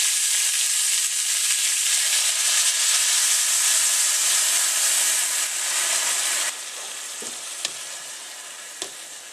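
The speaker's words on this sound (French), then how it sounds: "C'est à ce moment-là que je verse l'eau." Water hits a pan of sautéing green beans and sizzles with a loud, steady hiss that drops a little partway through, followed by a few soft clinks and stirs.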